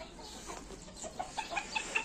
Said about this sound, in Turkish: horozumuz gayet keyifli. Çağırıyorsun değil mi?